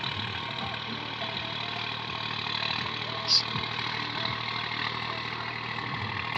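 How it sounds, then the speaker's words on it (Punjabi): A Swaraj 855 tractor engine running under load with a rotavator on a farm, a steady, even diesel drone throughout with one brief high squeak near the middle. "ਸਵਰਾਜ ਟਰੈਕਟਰ ਬਹੁਤ ਜ਼ਿਆਦਾ ਜ਼ੋਰ ਲਾਉਂਦਾ ਹੈਗਾ ਰੂਟਾਵੀਟਰ ਤੇ ਆ ਦੇਖ"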